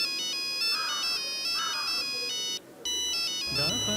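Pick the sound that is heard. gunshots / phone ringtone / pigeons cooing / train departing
phone ringtone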